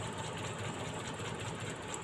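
A small engine idles steadily with a dense, even hum and faint knocking during a spark plug check, its speed sagging slightly as a plug is tested, with no talk over it.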